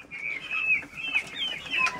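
Laying hens in a backyard poultry yard cluck nearby in a series of short, rising calls, several overlapping, with a quiet background and no talking.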